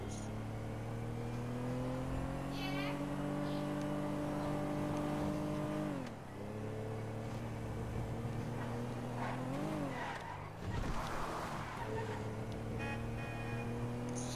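A car in a video game drives along toward Los Santos Customs. A steady, droning engine tone rises and falls with the throttle, with brief tire squeals and shifts in pitch around midway, heard continuously and without talking.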